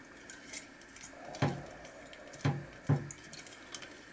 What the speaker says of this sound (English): Just have a look at the pipette and see if we stir it up a bit.